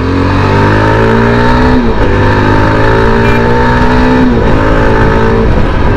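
A Yezdi Adventure motorcycle accelerates hard on full throttle, its loud, close engine note climbing steadily through two gear changes, with steady wind and road roar and no talk.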